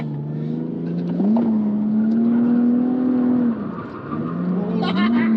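A Lexus IS200 with a welded diff drifting, its engine droning and revving in a steady tone that dips briefly and climbs again, heard from inside the car with people talking over it.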